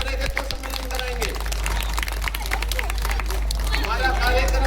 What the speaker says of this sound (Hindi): ये इसके लिए मैं तालियां भी चाहता हूँ